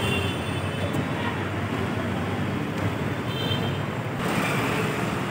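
A metro train rumbles overhead on an elevated line above a busy street in Andheri, Mumbai, as a steady, loud, broad roar with no talking.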